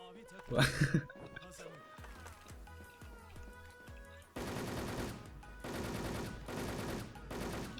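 Rapid automatic gunfire from a video game rattles in loud sustained bursts, with a short vocal outburst early on and game music tones underneath.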